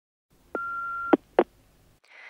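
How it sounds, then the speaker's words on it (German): An answering machine tone plays before a message: a steady electronic beep for about half a second, then two short clicks and a brief higher tone. It is clear and close, with no voices. "Sie hören eine Nachricht auf dem Anrufbeantworter."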